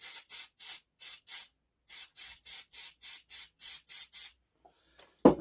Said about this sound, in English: Let me give him a little squirt with some brake cleaner.